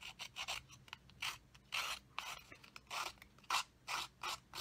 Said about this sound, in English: just take your scissor edge there and kind of rough those edges up